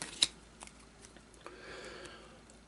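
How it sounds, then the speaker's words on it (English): A deck of cards being shuffled and cut for a tabletop board game, a sharp riffle snap at the start followed by a few soft clicks and brushing shuffles, close and quiet. "we'll do our usual shuffle and cut"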